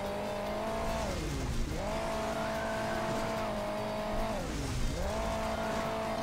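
A car engine in the Hill Climb Racing 2 video game revs hard and steadily, its pitch dipping and climbing again twice as it accelerates from the start, loud and continuous with a rough, buzzing tone.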